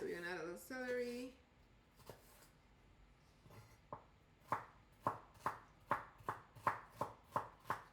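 A knife dices raw celery on a board, with a few scattered cuts followed by a steady run of about ten crisp, evenly spaced chops up close. A voice talks briefly at the start.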